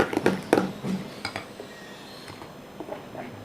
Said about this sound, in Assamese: এতিয়া এইখিনি ভালদৰে এনেকৈ লৰাই দিম।